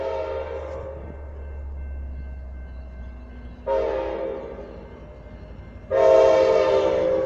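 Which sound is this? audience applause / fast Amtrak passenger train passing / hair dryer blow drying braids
fast Amtrak passenger train passing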